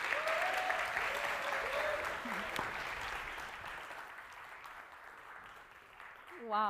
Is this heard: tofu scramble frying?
no